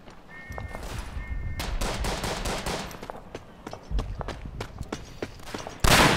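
Rifle and machine gun fire in the World War I trench shooter Verdun, with a Gewehr 98 trench magazine rifle among the weapons and sharp shots cracking over battlefield noise, ending in one loud close blast.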